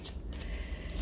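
Tarot cards being shuffled, a faint continuous riffling with soft papery flutter and a brighter slap near the end of the short burst.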